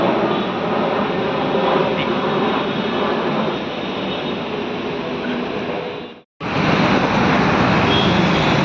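A Chennai metro train rumbles steadily and loudly throughout, with a brief sharp dropout near the end before the continuous rolling noise resumes.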